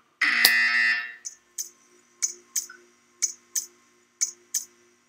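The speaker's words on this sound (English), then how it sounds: "You will hear a buzzer." Buzzer in the video game Portal 2: one long, loud buzzing tone about a second long, then a series of short, sharp beeps repeating at a steady, roughly half-second rhythm.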